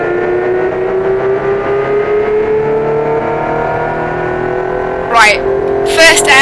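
A dragster van in a drag race accelerates hard down the track, its engine droning and climbing steadily in pitch, with sharp gear-change surges near the end; people talk over the engine noise.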